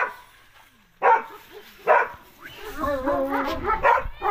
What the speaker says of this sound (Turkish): Evet, bu da kurt köpeğimiz. Samoyed.